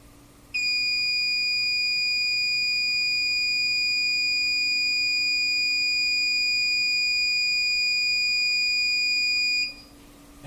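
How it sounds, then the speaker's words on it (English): A motion-detection buzzer sounds on the control unit of a JOOAN wireless/wired NVR surveillance system, a steady high-pitched electronic tone that holds unbroken for about nine seconds indoors and then cuts off. "you're going to hear a buzzer go off inside the house on the control unit"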